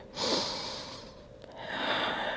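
Deep, slow breaths during a gentle morning yoga session for beginners, with a long breathy exhale at the start and another audible breath toward the end. Close and soft, with no talking.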